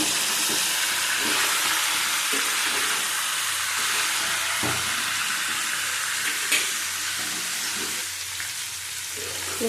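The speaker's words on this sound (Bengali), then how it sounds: "দিয়ে দেবো আলু আর পেঁপে একসাথে। হালকা ভেজে নেব।" Potato and papaya pieces lightly frying in a pan for a vegetarian curry, giving a steady, close sizzle with faint stirring clicks throughout and no talk.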